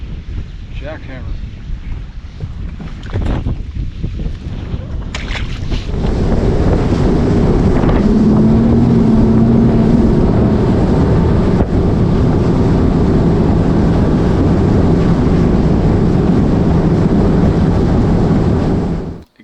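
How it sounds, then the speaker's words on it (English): Strong wind on open water while bass fishing from a boat, heavy buffeting rumble against the microphone that swells after a few seconds into a loud, constant roar, with brief knocks and movement early on. "Pretty windy on the water today"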